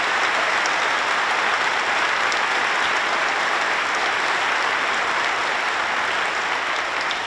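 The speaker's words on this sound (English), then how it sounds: "Please give Nobel laureate Brian Schmidt a big round of applause" Loud, sustained applause from a large audience at a conference opening ceremony, honoring a Nobel laureate in physics, dense steady clapping throughout with no pause.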